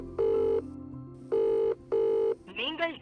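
A phone places a call through Siri: a tonal chime sounds, then three steady ringback beeps in even rhythm, followed by a short warbling tone, clear and close.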